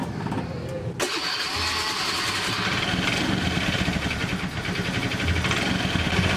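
Honda Beat scooter engine idling smoothly after an oil change, a steady close mechanical hum that continues unbroken after a brief sharp knock near the start.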